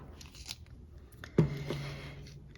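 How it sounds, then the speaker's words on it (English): Scissors snip along washi tape on a paper card project, producing soft crisp cutting crunches with one sharper close snip in the middle, quiet and near with no talk. "I just kind of cut along my washi tape in between these flowers"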